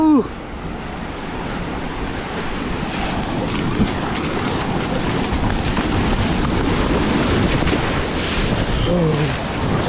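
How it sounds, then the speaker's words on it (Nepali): Ocean surf at North Curl Curl beach makes a loud, steady broadband roar that fills the whole stretch, with heavy wind buffeting the microphone and no clear breaks between waves. "अगाडि छ समुद्र, सही छ।"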